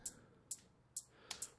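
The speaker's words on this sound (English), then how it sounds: "Here's an offbeat hi-hat" Offbeat hi-hat in an electronic dance track: short crisp ticks land at a steady offbeat pulse, bright and dry, five hits alone and fairly quiet with no talking.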